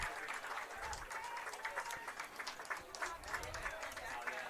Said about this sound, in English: getting a round of applause again